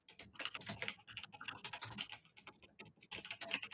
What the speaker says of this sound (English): Oh, chat can hear the typing. The typing is excessive.